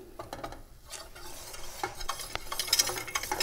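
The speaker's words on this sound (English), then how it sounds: "We're going to keep stirring." Flour roux for a béchamel sauce is stirred in a pan, with repeated close scraping strokes over a frothy sizzle that grows louder toward the end.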